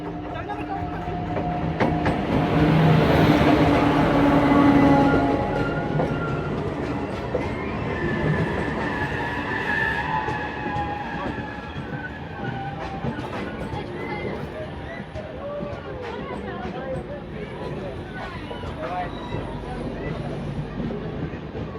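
Indian Railways Chhattisgarh Express pulling in alongside on platform 2 during a crossing near Durg, a loud rumbling pass with wheel clatter that swells early and then settles into a steady rolling din, with voices in the background.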